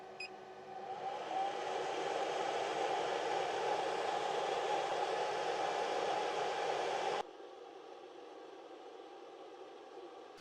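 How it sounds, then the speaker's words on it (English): Small active chamber heater of an Anycubic Kobra S1 Max enclosed 3D printer, set to 50 degrees: a steady fan-like whir with faint tonal hum, running evenly for about seven seconds before cutting down to a quieter background hum. "The active chamber heating comes from the small heater down here, which I can actually just demonstrate by manually setting it to 50 degrees."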